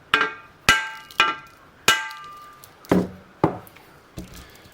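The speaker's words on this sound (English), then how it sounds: "giving it a nice tap with a hammer on the end." A hammer taps the end of a crankshaft on a Husqvarna 266/268 chainsaw being rebuilt, giving seven sharp metallic knocks with ringing decay at an uneven pace, close up.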